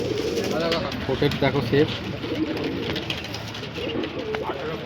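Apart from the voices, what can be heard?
pigeons cooing at market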